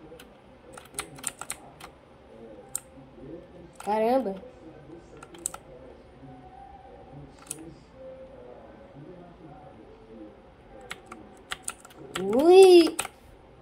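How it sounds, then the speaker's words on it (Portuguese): Computer keyboard typing while playing Roblox: a steady run of sharp, close clicks and key taps, with a person's short exclamations breaking in twice. "O barulho do teclado é muito barulhento, né?"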